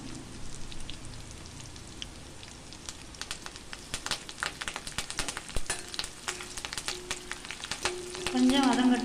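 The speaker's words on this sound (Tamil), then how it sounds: "கொஞ்சம் வதங்கட்டுங்க. பாருங்க, வதங்கிட்டுருக்கு." Curry leaves and dried red chillies sauté in hot oil for a pepper fry, giving a steady crackling sizzle with sharp pops and spatters. The frying grows louder toward the end, and no one speaks.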